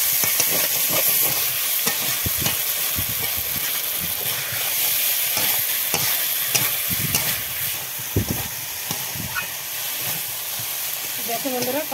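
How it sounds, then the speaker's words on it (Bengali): Potatoes and cauliflower are stir-fried with tomatoes in a hot pan, giving a steady hiss and sizzle, with scraping and stirring knocks from a spoon scattered throughout. "এখন দিয়ে দেবো আলু আর ফুলকপি দিয়ে, এখন আবার ভালো করে কষিয়ে নেব।"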